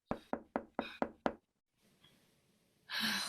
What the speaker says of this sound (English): But the knocking persisted.